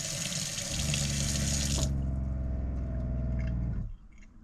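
Water gushes from a pumped faucet in a 1991 Toyota Warrior motorhome with a loud splash and a pump hum beneath, then the flow stops and the hum cuts out near the end.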